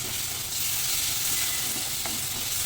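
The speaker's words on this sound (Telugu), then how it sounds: "ఈ టైంలో 1 స్పూన్ అల్లం పేస్ట్ పచ్చివాసన అనేది బాగా వేయించుకోవాలి" Ginger paste frying in hot oil with turmeric, a soft, steady sizzling hiss heard close up with faint stirring and no voices.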